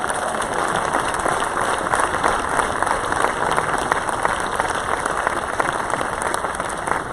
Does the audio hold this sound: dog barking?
no